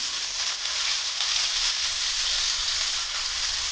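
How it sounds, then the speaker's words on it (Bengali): Chopped onion and green chili fry in hot oil in a wok, giving a steady, close, broadband sizzle that holds evenly throughout with no voices. "পেঁয়াজ কুচি আর মরিচ কুচি দিয়ে দেবো"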